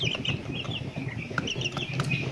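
Chickens clucking nearby in a coop, a cluster of overlapping short clucks and squawks repeating in quick, irregular bursts.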